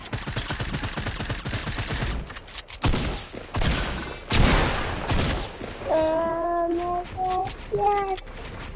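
Video game gunfire, rapid bursts and single heavy shots, loud and close, followed by ringing tonal game effects, with no speech.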